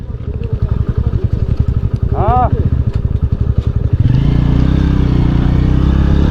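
A small, low-powered motorcycle climbing a hill track on a mountain trip, its engine chugging in a fast pulsing rhythm, then straining louder and steadier as the rider opens the throttle; a voice speaks briefly.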